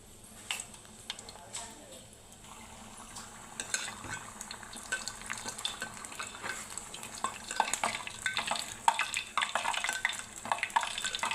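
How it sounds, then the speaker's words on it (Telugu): Raw banana bajji fritters frying in hot oil, a steady crackling sizzle that builds louder over time, with faint stirring and utensil scrapes and no talking. "ఆయిల్ కూడా హీట్ ఎక్కిపోయింది, బజ్జీలు వేసేద్దాం."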